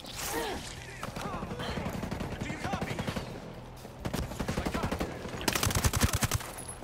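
Gunfire in Ghost Recon Breakpoint, rapid automatic bursts that rattle almost continuously, growing louder and denser toward the end, with a voice speaking briefly underneath.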